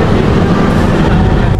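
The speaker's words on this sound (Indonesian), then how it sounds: "Itu kereta api Kertanegara yang baru datang dari Malang." Kertanegara passenger train arriving at a station from Malang, a loud, steady rolling rumble with dense clattering of wheels on rails close by, continuous throughout.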